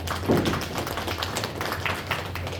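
A church congregation applauds at a retirement ceremony, a steady patter of many hands clapping at moderate loudness through the whole stretch, with a thud near the start.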